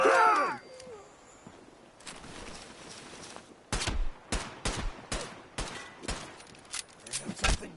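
Covering gunfire in Fallout 4 arrives as a string of sharp, separate shots from about the four-second mark, roughly a dozen irregularly spaced cracks, after a brief voice at the start and a quiet stretch.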